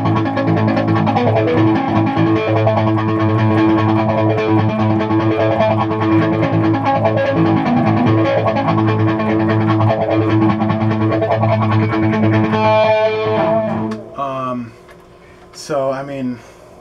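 Sustained electric guitar chords ring out with echoing repeats that layer into a dense wash, then fade into a few fainter trailing notes at the end.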